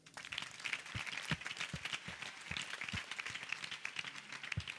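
An audience claps for a pastor at a church children's ministry gathering, a moderate, steady patter of hands that keeps going for several seconds with no voices over it.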